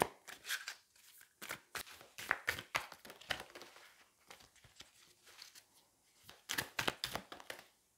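Tarot cards shuffled by hand, producing rapid papery riffles and taps in irregular clusters, some cards slipping out with soft flicks, close and fairly quiet.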